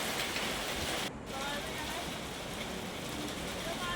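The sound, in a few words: heavy rain falling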